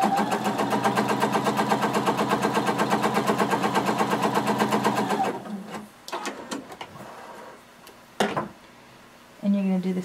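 A home sewing machine runs basting stitches on jumpsuit fabric in a steady, rapid, even chatter for about five seconds, then stops, followed by quiet handling clicks and rustles.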